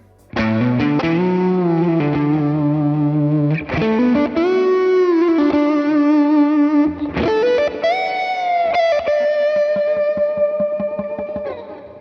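A distorted electric guitar plays a simple lick with bending and sliding notes, sustained and loud, with a chorus-like shimmer and a few picked attacks.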